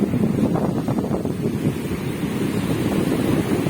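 Sea waves crashing on the shore, a continuous rumbling surf with wind buffeting the microphone and no voices.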